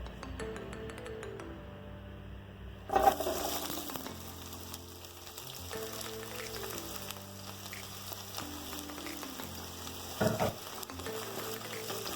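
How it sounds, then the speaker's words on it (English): Onions hitting heated oil in a pan for chicken curry with pigeon peas, a steady crackling sizzle running throughout, with two louder bursts of sizzle and clatter as ingredients are added, under soft background music. "To my heated oil, I'm going to add my onions"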